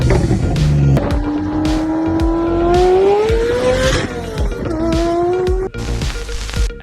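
Ferrari F40 sports car driving hard, with revving engine pitch climbing and falling across gear changes, tires squealing, and loud close-up sound and no talking.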